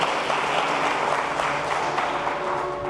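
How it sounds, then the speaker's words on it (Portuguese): Steady, dense applause from a church congregation fills the hall, loud and continuous for several seconds with no speech over it. "alguém aplauda Jesus"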